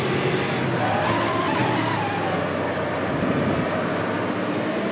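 A Metalmoro AJR with a Chevy V8 roars steadily around Interlagos in Automobilista, engine loud and close, with a brief thin tire squeal as the car is thrown into a corner.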